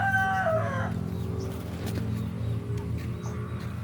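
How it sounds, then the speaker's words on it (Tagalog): Rhode Island chickens in a backyard garden, with a short crowing call at the start followed by low clucking and a steady murmur of fowl, close by with no talk. "Ito naman yung mga Rhode Island kong manok."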